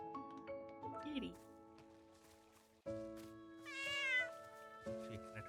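A cartoonish cat meows in a video game, a few short tonal cries rising over steady background game music, with a person talking at times.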